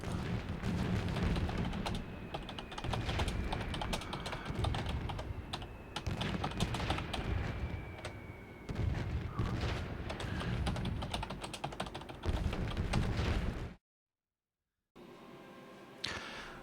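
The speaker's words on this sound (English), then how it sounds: "Trying to type a quick message in here" Rapid keyboard typing on a computer, clicking steadily and fairly close over the rumble and bursts of a War Thunder battle, then breaking off near the end as the game sound drops away.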